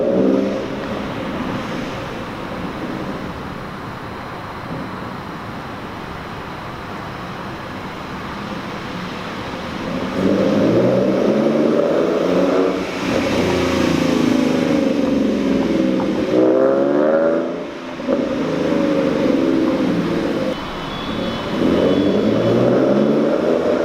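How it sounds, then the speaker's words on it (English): A Ford S550 Mustang's engine and exhaust, heard from outside the car, idle with a low rumble and then swell into several loud revving bursts in the second half, with no one talking. "listen to the outside of my car, and it does really sound good in my opinion"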